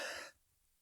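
A single short cough cuts off abruptly and leaves near silence, fairly quiet and close, heard during a maths lesson.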